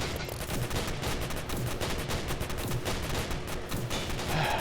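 Tower defense units in the Arena Tower Defense video game firing continuously, a dense steady rattle of game gunfire that holds at an even level throughout with no talk over it.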